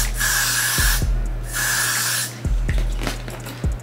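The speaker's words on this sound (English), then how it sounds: "spray this part up" Hairspray misted onto hair while styling a sleek braided ponytail, heard as two strong, close hissing bursts of about a second each, followed by soft brushing and tapping sounds.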